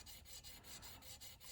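Hand saw cutting through stone under light downward pressure, a steady rasping stroke repeating about every 0.2 seconds, close and continuous with no voices.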